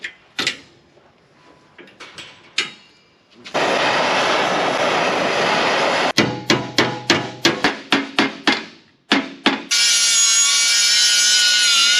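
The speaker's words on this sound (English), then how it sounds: "I'll have to grind that off." A grinder works a metal panel on a 1939 Caterpillar D4 crawler tractor: loud sustained grinding passes broken by a series of sharp hammer-like impacts, then a high-pitched whine, all close and without talk.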